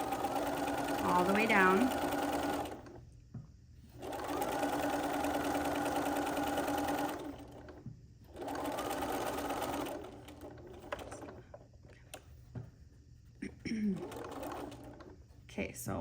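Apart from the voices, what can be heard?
sewing machine stitching a cross stitch pillow binding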